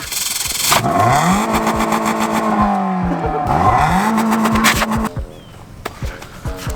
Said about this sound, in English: Now this is quad racing.